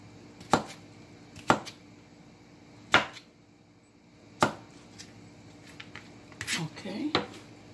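A kitchen knife slicing cucumber on a cutting board for a salad, five or six sharp, close knocks spaced at uneven intervals, then a brief burst of clatter and handling near the end.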